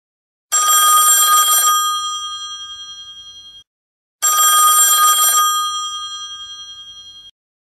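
A telephone rings in The Sims 3, two bright metallic bursts of bell trills about two and a half seconds apart, each followed by a fading ring, with no voices.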